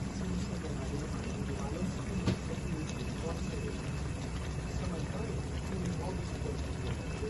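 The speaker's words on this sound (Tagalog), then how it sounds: "lagyan natin po ng konting tubig." Water poured into a pot of squash, long beans and shrimp stew as it cooks, a faint steady splashing and bubbling under a continuous background hiss while someone talks.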